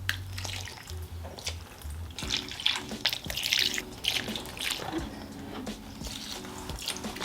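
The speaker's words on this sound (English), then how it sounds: "let's fill these water dishes" Water is poured into small water dishes in scorpion enclosures, giving soft, irregular trickling and splashing in short bursts close by, with faint handling noises and no talk.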